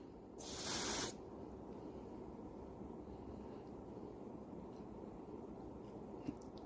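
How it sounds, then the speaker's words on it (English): Body spray released in one short, loud hiss of about a second near a running Winix 5500-2 air purifier, followed by the steady low hum of the purifier and quiet room noise. "This is just some body spray."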